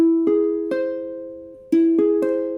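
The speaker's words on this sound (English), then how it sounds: "Now an augmented triad in first inversion sounds like this." An augmented triad in first inversion struck as piano-like tones, several clear separate notes and chords sounding in sequence, each ringing and decaying, with no voices.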